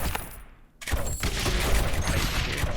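Ballistas and mortars fire in the tower-defence video game Rogue Tower, a dense, continuous clatter of rapid shots and impacts after a brief quieter moment at the start.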